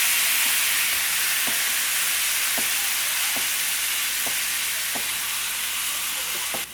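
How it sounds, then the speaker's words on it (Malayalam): Chicken liver fries in a hot pan with no added water, giving a loud, continuous sizzle with faint periodic ticks and scrapes throughout. The sizzle cuts off sharply at the end. "ഇനി ഇതിലേക്ക് നമുക്ക് ഈ ചിക്കൻ ലിവർ വെള്ളമില്ലാതെ ഇട്ട് കൊടുക്കാം."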